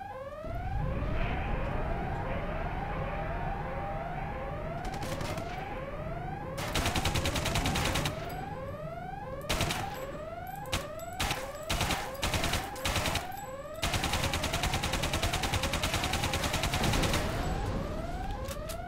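Gunfire from Alien Breed 2 Assault, a video game, destroying rocket turrets: rapid, loud bursts of shots come in clusters over a steady, repeating wailing alarm tone.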